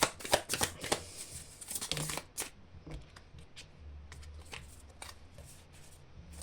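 Tarot cards are shuffled for a reading, giving crisp, rapid riffles and slaps. The flurry is loudest at the start, then turns into softer, sparse card flicks close by.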